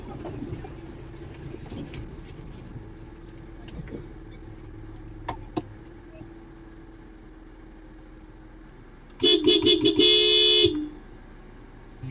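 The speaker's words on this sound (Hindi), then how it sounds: "तो दोस्तों, हॉर्न दे दिया गया है।" A car horn blares in a sustained series of rapid honks lasting about a second and a half, loud and close, after quiet outdoor ambience with faint voices, on a forest road near Jim Corbett.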